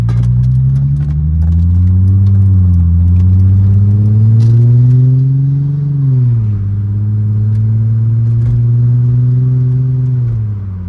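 A 2004 Chrysler Crossfire accelerates with a loud, close engine drone that rises in pitch through gears, dipping briefly between shifts before climbing again, alone without talk.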